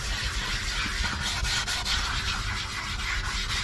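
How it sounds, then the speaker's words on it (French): A Tesla seat is scrubbed all over with cleaner and a sponge, producing a close, continuous rubbing swish with quick back-and-forth strokes and no voices. "On frotte un peu partout."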